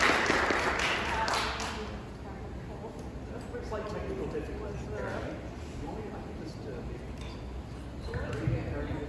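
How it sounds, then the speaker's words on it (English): Audience applause at an information architecture conference in Toronto, a broad wash of clapping that is loudest in the first two seconds and then lingers at a steady, moderate level. "Please give a round of applause to Keith"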